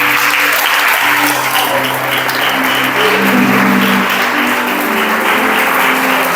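A church congregation at a revival service claps loudly and continuously, dense sustained applause filling the hall with cheering voices and music beneath.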